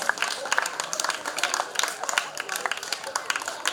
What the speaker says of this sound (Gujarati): જેમને આપણે જોરદાર તાળીઓથી વધાવશું